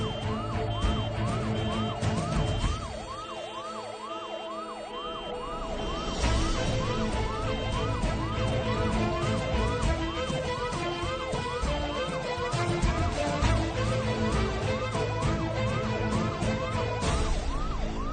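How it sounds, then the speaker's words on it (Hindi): An ambulance siren wails continuously in a steady, repeating up-and-down pattern, loud and close for the whole stretch, with traffic rumble underneath and no talking. "कोई एम्बुलेंस को बुलाओ प्लीज, कोई एम्बुलेंस को बुलाओ।"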